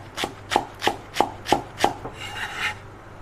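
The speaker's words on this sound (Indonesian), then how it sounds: "Crab sticknya cuman aku potong-potong seperti ini saja ya." A knife chops crab sticks into pieces on a board: six quick, evenly spaced thuds in a steady rhythm, close and distinct, then a softer scraping at the end.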